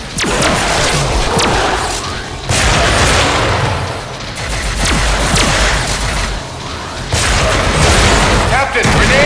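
Loud, dense explosions and blasts from a grenade in the Star Trek video game, with several heavy booms over a continuous roar of battle noise and voices calling out underneath.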